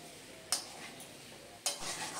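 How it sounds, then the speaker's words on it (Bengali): Spiced potatoes and pointed gourd are stirred in a pan over a steady sizzle, with two sharp scraping strokes of the spoon cutting in close and clear. "খুব সুন্দর করে নেড়েচেড়ে নিয়ে আরও 2-3 মিনিটের জন্য আলু পটলের সাথেই মশলাগুলোকে কষিয়ে নেব"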